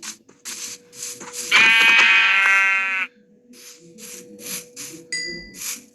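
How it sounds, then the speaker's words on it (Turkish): A single loud, wavering sheep bleat rings out for about a second and a half, surrounded by quieter clicks and soft game-like sounds. "Koyun."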